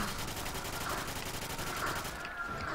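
An RPD machine gun firing in a Call of Duty custom zombies map, heard as a steady, rapid stream of automatic shots throughout, moderately loud with no pause.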